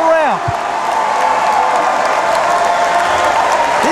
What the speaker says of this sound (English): Terry Rock getting cheered on by the crowd